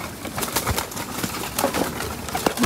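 Soft pigeon cooing and a few wing flutters over a faint background, no voices nearby.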